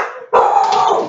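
A dog barks loudly in a short burst after a brief pause, close to the listener and heard alone with no talking over it.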